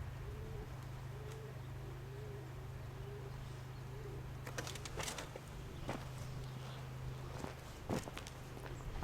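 A pigeon coos softly in a repeated low rhythm over steady background hum, with a few footsteps and scuffs nearby.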